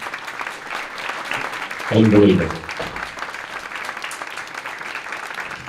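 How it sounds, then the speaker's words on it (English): A memorial service audience breaks into a short burst of applause lasting under a second, under a quiet murmur, and a voice speaks a word nearby. "Just a big round of applause for everybody who spoke"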